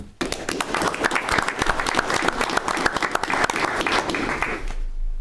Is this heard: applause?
yes